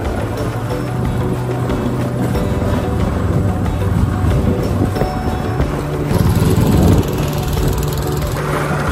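A boat engine drones steadily and loudly throughout, a close, continuous motor rumble.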